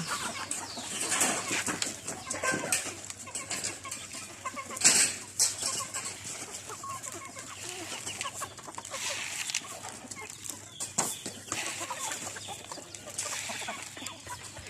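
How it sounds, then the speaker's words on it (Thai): Chickens cluck and murmur around a roadside spot, a flock heard close by with scattered squawks and occasional louder calls, continuous against outdoor ambience. "อ่ะดูไก่ลุงมน"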